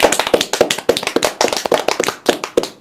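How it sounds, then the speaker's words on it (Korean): Dense, rapid hand clapping from a live audience, with many sharp overlapping claps in an uneven rhythm that holds steady throughout, close and loud with no voices over it. "박수 한번 치면서 보겠습니다."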